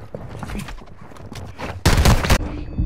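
Call of Duty gunfire: a scattered series of sharp shots and impacts, then a loud dense burst of rapid fire near the end, with faint voice chatter under the battle noise.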